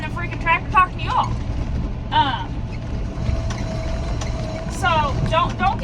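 A tractor engine drones steadily from inside the cab during corn planting on a hay field, a low continuous rumble beneath a person talking.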